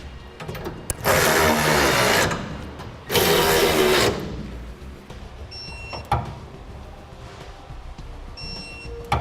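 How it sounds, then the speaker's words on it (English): Bolts on a B&W fifth wheel trailer hitch being tightened with a wrench on a 2010 Chevrolet Silverado, two long loud mechanical bursts of ratcheting or power tool whirring followed by quieter clicks and faint clanks. "Now we're going to snug down and torque our hardware."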